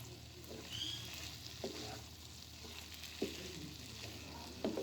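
Keema bhindi, okra cooked with minced meat, being stirred in a pan, a steady sizzle of frying with a few soft spoon scrapes at intervals, no talking.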